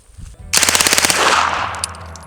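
A homemade Luty 9mm submachine gun fires one rapid burst of about a dozen sharp, loud shots after a short quiet lead-in, the report ringing out into a decaying echo.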